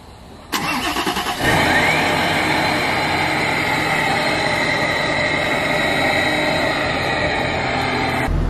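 A Nissan Titan XD truck engine with an EGR delete cranks briefly, then catches and settles into a loud, steady idle rumble that continues to the end.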